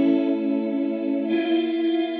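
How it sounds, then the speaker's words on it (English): Guitar pad run through a fast-modulated multi-tap delay, a sustained, harmonically rich chord that shimmers and swells slightly partway through, smooth and ethereal with no voices. "Fast delay time modulation can create lovely shimmering ethereal sounds."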